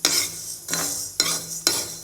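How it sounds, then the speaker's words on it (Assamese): Rice dry-roasting in a pan for sandoh, stirred with a spoon in four distinct scraping strokes, each a sharp gritty onset trailing into a dry rustle, close and steady with no voices. "চাউলখিনি ভাজি আছোঁ সান্দহ বনাবৰ কাৰণে"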